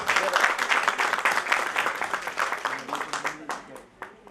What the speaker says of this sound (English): A big round of applause for yourself.